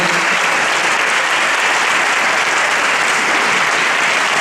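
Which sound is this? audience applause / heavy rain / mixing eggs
audience applause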